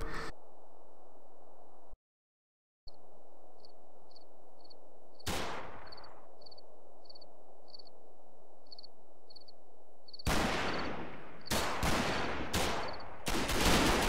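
Gunfire from the wartime tactics game Combat Mission Market Garden comes in short sharp bursts near the end, after a long stretch of quiet outdoor ambience with a faint, regular insect-like chirp.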